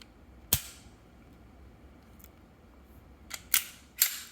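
Sharp mechanical clicks from an M17 pistol being dry-fired, one crisp snap near the start and then a quick cluster of two or three clicks toward the end, close and isolated against a quiet room.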